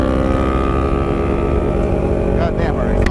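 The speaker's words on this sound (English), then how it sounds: "Goddamn, our exhaust is loud." Kawasaki Ninja 650 motorcycle with a loud exhaust while riding, a steady droning engine roar mixed with wind rush, close and continuous throughout.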